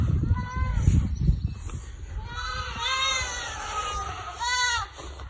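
Several goats, including bottle-fed kids, bleat loudly and repeatedly, overlapping cries rising and falling, with rumbling noise and some bird-like chirps in the background.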